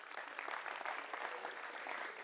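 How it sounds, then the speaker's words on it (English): Quiet, steady applause from an audience at a motivational talk, even clapping sustained throughout at a distance with no voices. "Another round of applause for that."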